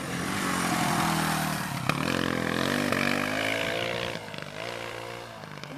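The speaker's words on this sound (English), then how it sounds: "Showing some more footage of the 95 DR350 here with Zachary on the bike." A 1995 Suzuki DR350 dirt bike engine drones steadily, then its revs rise and fall. The sound is fairly close, with a brief pop near the middle and a softer idle toward the end.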